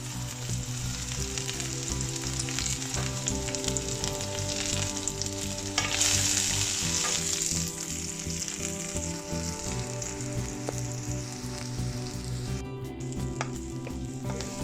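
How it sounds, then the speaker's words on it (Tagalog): Garlic sizzles steadily in a hot pan for chicken in coconut milk, a continuous loud frying hiss with scraping stir strokes throughout and a brief surge of spitting partway through. "just mix, stir it until the garlic can brown"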